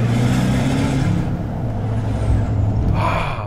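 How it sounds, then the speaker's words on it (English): A Ram TRX pickup truck runs with a loud, sustained engine drone, with a high turbo whistle rising faintly above it toward the end. "Just listen to that turbo."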